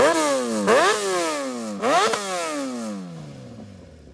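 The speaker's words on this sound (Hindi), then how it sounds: "अब सुपर बाइक दिखा रहे, तो आवाज तो सुनाई दो।" Kawasaki Ninja ZX10R superbike fitted with a full titanium exhaust, revved hard twice in close succession, each sharp climb falling away, then settling to a rough idle; loud and close with no talking.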